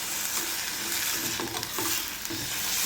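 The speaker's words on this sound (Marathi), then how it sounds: "2-3 मिनिटं परतून घेऊया।" A pizza filling fries on high flame in a pan with a loud, steady hiss and occasional scraping stirs, close and uninterrupted.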